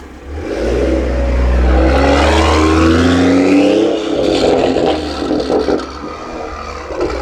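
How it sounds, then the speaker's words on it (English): BMW M340i fitted with a big turbo, driven in Sport Plus, a loud exhaust roar building under acceleration with a rising turbo whistle, then easing off into rough burbles and pops, close and with no talk. "the turbo spool sounds crazy"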